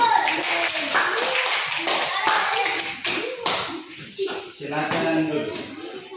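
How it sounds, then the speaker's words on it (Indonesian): Applause from a third-grade class at an elementary school in Tual for one student group: dense, steady clapping over about six seconds, with children's voices chattering underneath. "Berikan aplaus untuk kelompok"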